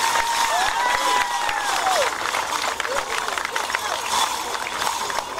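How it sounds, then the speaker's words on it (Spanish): Outdoor crowd at a folk dance parade in Puerto Madryn, Argentina, claps and cheers steadily for a departing dance troupe, with scattered voices and whistles mixed into the continuous applause. "¡Fuerte el aplauso!"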